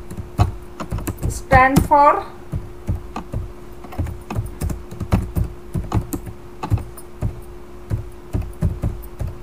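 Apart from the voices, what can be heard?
typing on a computer keyboard in a Linux text editor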